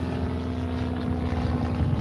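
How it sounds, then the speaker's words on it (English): A small propeller airplane passes over a lake, a steady droning engine hum with a low tonal whine, fairly loud and continuous throughout, heard from a kayak with no voices. "Got a cool little plane flying over."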